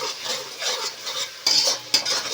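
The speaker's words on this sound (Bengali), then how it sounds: "রসুনটা পেঁয়াজের সাথে খুব ভালো করে ভাজব।" Garlic paste fries with onions for a desi chicken curry, a close bubbling sizzle with a spoon stirring and scraping the pan, including two sharp metal clinks, and no voices.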